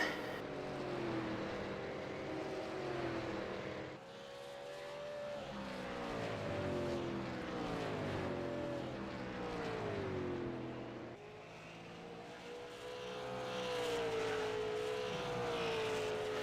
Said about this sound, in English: These cars are fast and a bit hard to handle sometimes.